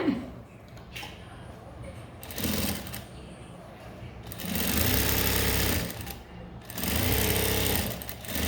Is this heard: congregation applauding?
no